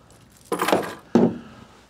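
A bunch of truck ignition keys jangles close by in two short metallic bursts, a longer shake followed by a brief second clink, with no talking.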